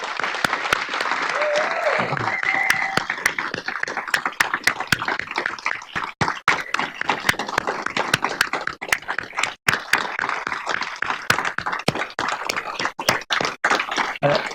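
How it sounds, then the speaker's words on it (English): Audience applause at a medical education meeting on redesigning the clinical learning environment, a sustained round of clapping from a sizable crowd lasting the whole stretch, dense and steady with sharper individual claps scattered throughout. "So could you give them a round of applause?"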